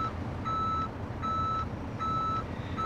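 Reversing beeps from a Kenworth W900B truck in Euro Truck Simulator 2, sounding as three evenly spaced, steady tones over a continuous low engine rumble.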